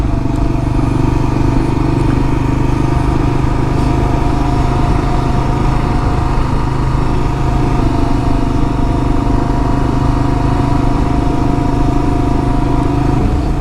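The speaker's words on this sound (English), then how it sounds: "just got it up to 90 kilometres an hour, and I cannot believe how noisy it is with knobby tyres" Kawasaki KLR-650 motorcycle cruising at 90 km/h on knobby tyres: loud, steady engine drone with constant tyre and wind roar, close and unbroken throughout.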